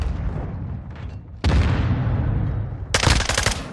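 Gunfire in the video game Call of Duty Modern Warfare II: loud, close bursts of rapid shots, one sharp volley starting mid-clip and another heavier burst near the end, over a rumbling game background.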